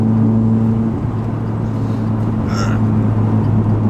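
406bhp Vauxhall Corsa VXR under hard acceleration, a steady loud engine hum with strong low tones and broadband road and wind roar, with a brief higher whine midway.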